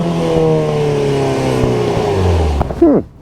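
A Mazda CX-90 PHEV plug-in hybrid crossover revs its inline-six engine, a loud, steady droning rise held close for a few seconds before it cuts off sharply, with a short squeal near the end.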